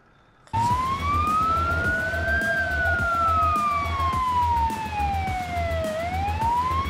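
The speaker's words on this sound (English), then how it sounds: "I think the ambulance is on its way" An ambulance siren in the BeamNG.drive video game wails in slow rising and falling sweeps, loud and steady, over a low rumbling vehicle engine.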